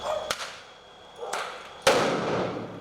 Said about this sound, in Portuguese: A explosão abriu caminho para a chegada da Polícia Federal.